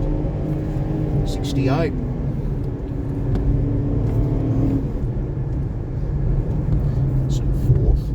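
A Renault Duster 1.2 petrol 4x4 with manual gearbox drones steadily as its engine is revved hard through short gears at full throttle, a continuous loud cabin rumble with a rising pitch sweep early on and a voice talking over it.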